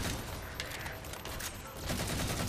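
Rapid weapon fire from a Bolt Shot in the Halo 4 video game, a dense, steady crackle of shots with no pause, heard fairly quietly.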